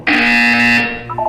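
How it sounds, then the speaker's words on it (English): A single harsh electronic buzzer blares in the Portal 2 video game, holding loud and steady for under a second, then fading out. "You will hear a buzzer."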